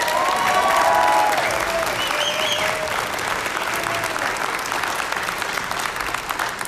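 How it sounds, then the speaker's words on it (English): An audience applauds a high school show choir at a concert, loud sustained clapping from the start that holds steady throughout and slowly eases off, with occasional faint voices mixed into the crowd. "Could you give another round of applause for our show choir?"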